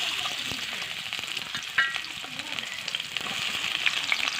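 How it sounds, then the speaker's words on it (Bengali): Chopped onions fry in white oil in a wok for chicken biryani, giving a close, steady sizzle with a soft stirring rustle and one small metallic clink. "কড়াইতে সাদা তেল দিয়ে দিচ্ছি, এখন পেঁয়াজ কুচি দিয়ে দেবো।"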